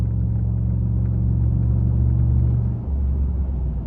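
Cabin sound of a 2018 Chevrolet Silverado truck with a muffler delete cruising around 45 mph, windows up: a steady, loud low exhaust drone and road rumble that eases briefly near the end, with no talking.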